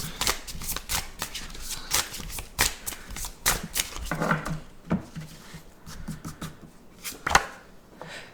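An oracle card deck, a divine masculine revelations deck, is shuffled by hand in quick riffling bursts and soft slaps, close and fairly quiet, with a pause and a few final taps.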